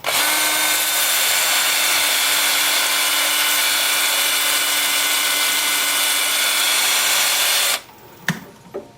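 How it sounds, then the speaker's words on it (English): A wood lathe spins at 350 RPM while a tool turns a live-edge plum wood bowl, making a loud, steady, dense hiss and roar for nearly eight seconds before cutting off, followed by a few faint knocks. "with the lathe spinning at 350 RPM"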